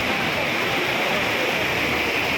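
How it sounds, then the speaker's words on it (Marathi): Water rushes continuously with a dense, even roar, close by and unchanging, with no other sounds standing out. "फरशीवरनं पाणी जायला लागलं अजून"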